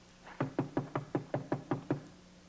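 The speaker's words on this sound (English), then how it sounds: "Preston, there's someone at the door." Eight firm knocks on a door in an even, steady rhythm, close and clear against a quiet room with no talking.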